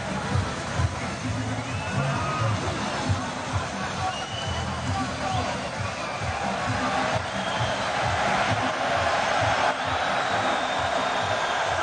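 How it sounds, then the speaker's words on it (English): A boxing arena crowd screams and cheers in a dense, continuous roar after the closing bell of a professional fight, with shouting voices blending into steady babble that swells slightly toward the end. "And the crowd, what they're screaming about"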